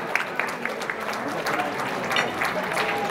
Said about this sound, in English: he really deserves a round of applause for doing such a, a terrific job